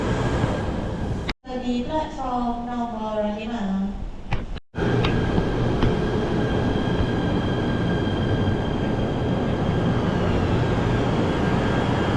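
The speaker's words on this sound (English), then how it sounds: "Our train has arrived." A metro train arriving at a station in Kuala Lumpur, Malaysia, rumbles and hums loudly with a steady broadband roar, interrupted briefly by a melodic chime announcement.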